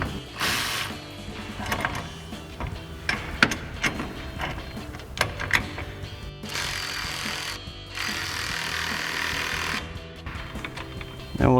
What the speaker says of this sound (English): And we'll tighten up our other bolt.